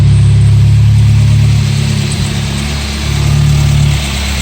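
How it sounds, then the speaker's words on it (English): A 1981 VW Scirocco S with CIS fuel injection and the AC switched off, idling steadily: a loud, even low engine hum that holds for several seconds with a slight dip in the middle. "See, the idle stays even."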